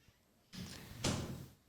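A door in a home swings and shuts with a soft rushing sweep, then a fuller thud as it closes, heard fairly faint and nearby.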